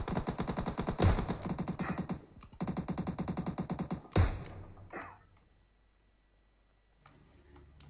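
Automatic gunfire in PUBG on the foggy Sanhok map: two long, rapid bursts ring out loud and close, followed by a single sharp shot, then near silence with a faint thump at the end.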